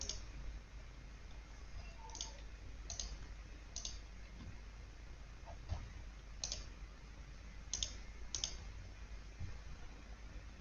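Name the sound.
computer mouse right-clicking in Excel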